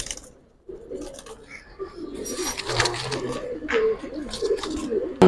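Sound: silver Giribaz pigeons cooing and flapping

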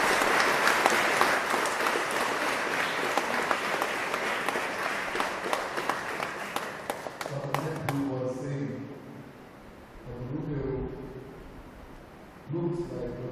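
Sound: audience applause for the choir

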